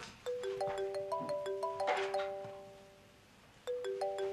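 A mobile phone plays a melodic chiming ringtone that repeats as a short phrase, goes quiet for a moment, then starts again. It sounds clear and moderately close against a faint background.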